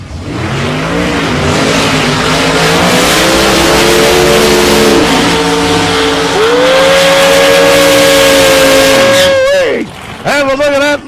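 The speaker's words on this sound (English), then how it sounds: "Couple of burnouts, wouldn't you say?" A 1953 Studebaker lights its tires at a Wild Bunch drag race, engine held at a loud, steady high rev with tires roaring for several seconds, a brief dip and renewed revs near the end, with a crowd and announcer faintly audible.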